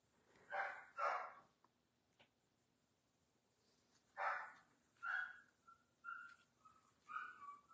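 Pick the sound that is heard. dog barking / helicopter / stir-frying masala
dog barking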